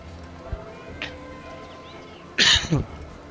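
A single loud, close cough bursts out after a few faint knocks and small background noises.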